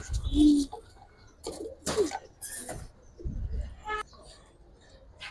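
Giribaz pigeons coo in soft, low bursts at close range, spaced out between rustling and handling noises, with people talking nearby.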